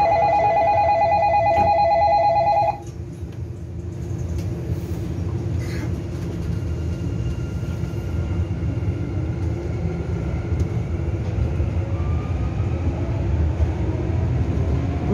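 A Sillim Line light rail train in Seoul runs between Boramae and Boramae Park stations, a steady low rumble and hum of the moving car heard from inside after a short electronic chime ends, loud and continuous.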